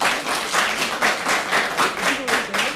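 A congregation at a church gathering bursts into sustained clapping and cheering, dense rhythmic applause that swells in pulses throughout, with a voice speaking over it.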